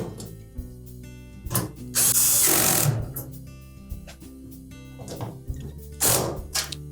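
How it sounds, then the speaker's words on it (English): A cordless power driver drives screws into a Samsung dryer panel, several short whirring bursts and one longer run with pauses between, close and clear. "Now we'll put the remainder of those screws in place."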